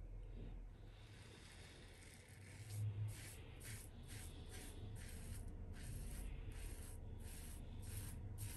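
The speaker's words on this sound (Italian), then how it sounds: "procediamo con la rasatura" Close, rasping scrape of a Tatara Masamune razor with a Feather blade across stubble, repeated in short strokes with brief pauses between them.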